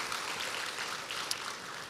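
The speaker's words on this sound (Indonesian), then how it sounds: "Berikan tepuk tangan kita untuk Tuhan kita." Broadband applause from a church congregation after a sermon, a steady wash of clapping heard alone at moderate level, with no talk over it.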